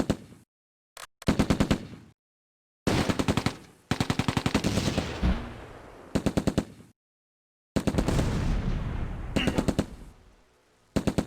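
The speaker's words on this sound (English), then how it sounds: "The machine gun on the half-track just annihilated those guys." A half-track's machine gun in Close Combat: A Bridge Too Far rattles out loud, rapid bursts of varying length, broken by short silent gaps, the fire close and harsh throughout.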